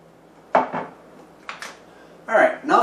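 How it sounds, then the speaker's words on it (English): Paprika, chili powder and cayenne are mixed in a bowl for taco seasoning, making a few short scraping clinks of utensil against bowl in separate quick bursts, close and clear. "So mix these spices through each other."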